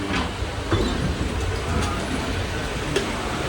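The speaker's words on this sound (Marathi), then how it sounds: "ही ट्रेन बघा ना, एकदम कंटिन्यू आहे" Steady low rumble inside a moving train carriage, with faint rhythmic clacking of wheels on the rails and a constant hum throughout.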